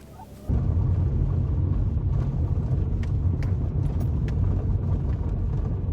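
A borrowed pickup truck towing a trailer at night, its engine kicking in abruptly and then holding a steady, close, low rumble with a few faint knocks and rattles over the top.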